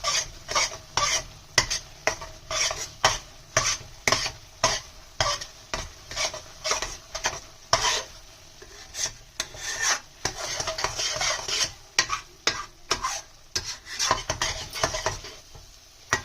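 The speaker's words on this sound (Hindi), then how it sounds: "और ये जो बर्फी को हम स्लोली इस तरीके से चलाते रहेंगे।" A lauki (bottle gourd) milk barfi mixture is stirred slowly in a pan, with repeated close scraping strokes in a steady rhythm over a soft sizzle, each stroke a sharp rasp against the metal, and no voices.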